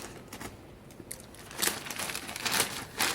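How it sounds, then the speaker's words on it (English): Cardboard packaging of a Samsung Galaxy Tab S6 Lite being unwrapped, with close crinkling and tearing bursts that grow louder toward the end, no talk. "Right, and then there's the cardboard packaging, which is okay. Let's unwrap this."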